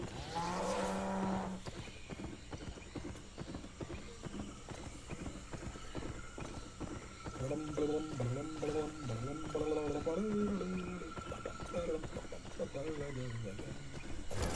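Cow mooing in the video game Albion Online, several drawn-out moos in the second half over steady clip-clopping hooves and background game sounds.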